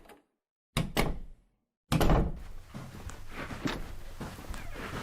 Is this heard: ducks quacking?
no